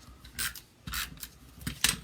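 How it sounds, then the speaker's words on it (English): Paper being cut with snips while trimming a cardstock layer for a Stampin' Up! Dressed To Impress card: several short, crisp rasping snips spaced apart, close and fairly quiet, no talking. "I'm going to cut this off from the back"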